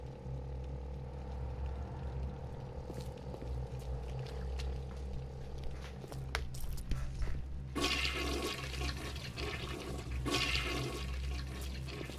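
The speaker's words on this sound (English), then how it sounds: "Flush toilet 2017 simulator." A toilet flushes in the video game Bioshock Remastered, a long rushing gush of water swelling partway through over a low droning background, with scattered clicks and no speech.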